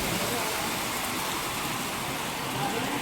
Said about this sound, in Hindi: मैंने बोला था ना बहुत तेज़ काले बादल हैं और बारिश भी होने लगी